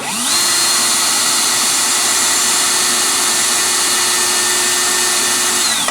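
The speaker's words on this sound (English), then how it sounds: "Maybe another 5 seconds on the drill." A power drill with a dull bit bores into a plastic Christmas light socket, whining steadily at high speed for several seconds, close and loud, then spins down abruptly at the end.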